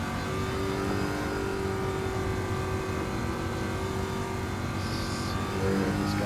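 A Corvette C8 races around Mount Panorama in Gran Turismo 7, its engine droning steadily and loudly throughout with sustained tonal whine, no talk over it.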